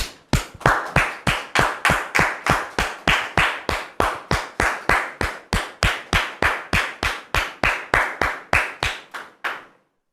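Slow, even clapping from an audience at a welcome on a televised stage show, about thirty sharp claps in steady rhythm, close and loud, with no voices, stopping just before the end.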